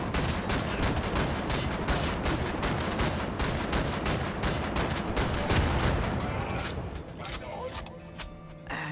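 Rapid continuous automatic gunfire rattles loudly through a Wolfenstein: The New Order firefight on a lunar base, a dense steady burst that thins out near the end.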